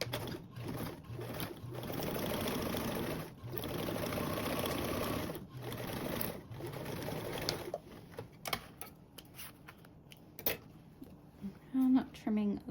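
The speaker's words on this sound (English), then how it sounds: "we're also going to sew this seam with a 1/4 seam allowance" Sewing machine stitching a duffle bag seam at a quarter-inch allowance, running in steady bursts separated by short pauses, then giving way to scattered handling clicks and rustles near the end.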